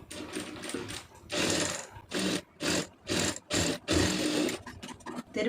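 A sewing machine stitches a blouse seam in short repeated bursts, each a loud pulsing whir lasting under a second, separated by brief pauses as the fabric is guided along.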